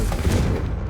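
A Confringo fire spell blasts in Hogwarts Legacy, a loud, booming burst with a fiery crackling roar that fills the short moment without any voices.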